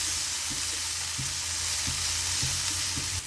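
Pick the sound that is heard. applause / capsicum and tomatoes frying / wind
capsicum and tomatoes frying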